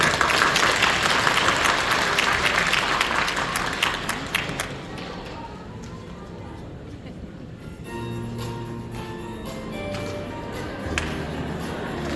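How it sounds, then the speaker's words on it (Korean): Church congregation applauding to welcome the infant department children, a loud sustained wave of clapping that gradually thins out, followed by quieter room sound with soft piano-like tones and voices. "우리 영유아부 아이들입니다. 박수로 환영해주세요."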